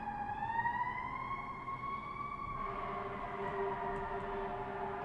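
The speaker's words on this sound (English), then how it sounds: "The siren's a fire engine, it sounds like." A fire engine siren wails in rising and falling tones, faint and distant, over a low background hum.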